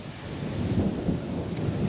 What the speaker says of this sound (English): This is the last rain for the foreseeable future, at least for the next week.